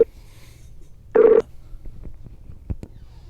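A Skype call being placed: one short, clear electronic ring tone stands out, surrounded by quiet room noise and a few faint clicks and taps.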